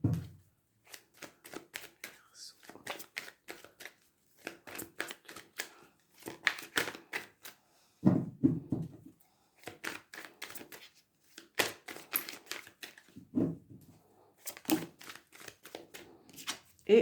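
Tarot cards being shuffled and laid out by hand, rapid papery riffles and flicks in repeated bursts separated by short pauses, close and clear with no talking.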